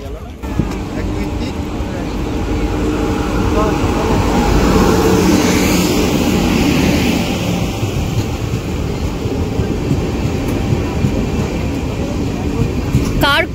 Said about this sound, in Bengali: এই দিক দিয়ে যাচ্ছে হাওড়া কাটিহার এক্সপ্রেস, এটা যাচ্ছে